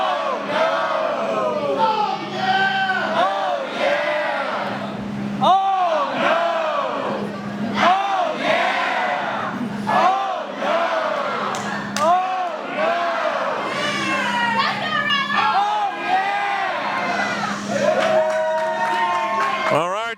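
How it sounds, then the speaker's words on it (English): A wrestling crowd at a tag team championship match roars and chants loudly, voices rising and falling in waves of shouted yeahs and no's that carry on continuously for the whole stretch. "The crowd has vocally voiced their opinions on yeahs and no's."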